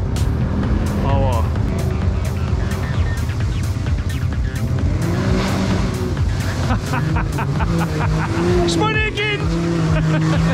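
A Can-Am Maverick X3 Turbo side-by-side revs hard and close, its engine pitch sweeping up and down through repeated throttle bursts, with people talking over it.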